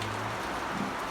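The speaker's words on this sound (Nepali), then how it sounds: "कस्तो पानी परेको कस्तो मजाले झरेको" Steady rain falls in a broad, even hiss, continuous and moderately loud throughout, with no voices and a faint low hum underneath.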